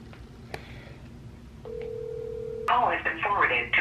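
A telephone call being placed: a steady electronic tone holds for about a second, then gives way to brighter, busier line sounds, with faint room noise throughout.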